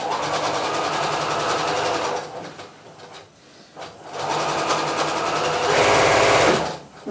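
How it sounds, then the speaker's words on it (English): A sewing machine runs stitching a nursing cover at a half-inch seam allowance, a steady close mechanical whir in two bursts, broken by a short pause, then resuming louder toward the end. "so let's go to the sewing machine"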